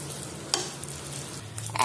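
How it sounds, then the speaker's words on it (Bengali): Chopped tomato is stirred into frying onion and spices for Bangladeshi chicken bhuna, a close sizzle broken by a couple of sharp spoon scrapes against the pan. "টমেটোটাকেও আমি পেঁয়াজ আর মশলাটার সাথে খুব ভালো করে মিশিয়ে দিচ্ছি।"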